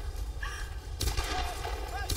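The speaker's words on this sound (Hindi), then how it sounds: "अरे वो देखो कैसे गोली चला रहा है भाई" Gunfire in the action video game Tomb Raider 2013, with a burst of loud shots cutting in midway over game ambience and music, followed by further reports.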